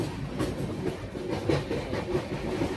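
Passenger train running along the tracks, a low steady rumble with faint rhythmic clatter heard from inside, no speech.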